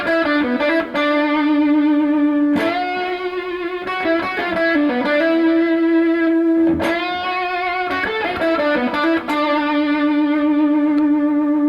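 Distorted electric guitar with effects plays a short lick of sustained, bending notes, then repeats the same phrase an octave higher in an intermediate-level solo lesson. It is loud and continuous, with no talking.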